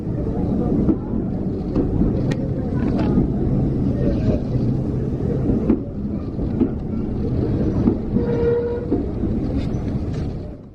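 An old, well-kept heritage train on the South Devon Railway rumbles steadily nearby, a constant low mechanical roar with rattles and a few faint squeals, mixed with wind buffeting the microphone.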